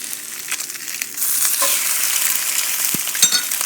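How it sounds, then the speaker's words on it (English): Two strips of bacon frying in a skillet, a steady close sizzle with the occasional scrape or tap of a utensil against the pan, no talking. "I'm going to go ahead and put 2 pieces of bacon into my skillet"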